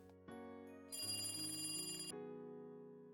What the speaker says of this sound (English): Phone on the desk rang, and the cop picked it up.